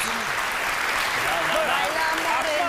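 Studio audience applause on a television show, a continuous, even roar of clapping with a voice faintly over it.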